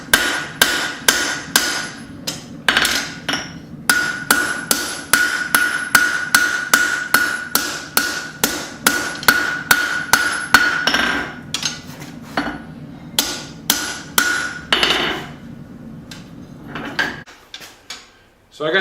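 Hammer blows on a Bowie knife blade being forged and curved, struck in quick rhythmic bursts of loud, sharp metallic clangs with brief pauses between runs, close and clear.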